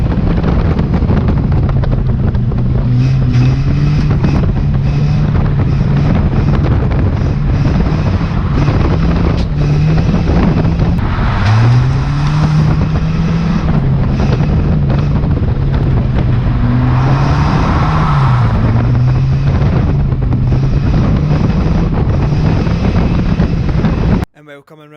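A race car drives hard around a wet track, its engine droning loudly and steadily with pitch sweeps through gear changes and corners, with heavy wind buffeting and a voice over it.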